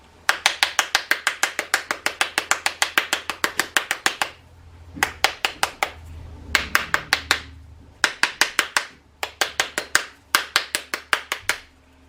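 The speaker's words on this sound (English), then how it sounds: "Take your spoon and give some gentle taps along the outside shell" A spoon raps gently along the outer shell of a 3D apple bath bomb mold, sounding as close, sharp taps in quick rhythmic bursts separated by short pauses, with no talking.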